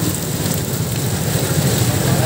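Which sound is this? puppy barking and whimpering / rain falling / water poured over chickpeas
rain falling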